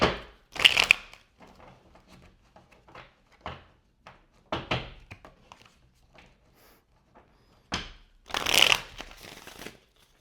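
Tarot cards are shuffled by hand in several separate bursts, crisp riffling and slapping sounds close to the microphone with quiet gaps between.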